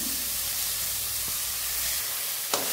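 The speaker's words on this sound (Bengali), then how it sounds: "এটা একটু ভেজে নিতে হবে, একটু নরম হবে" Tomatoes and vegetables frying in a pan, a soft steady sizzle heard close by throughout, with a faint utensil tap near the end and no talk.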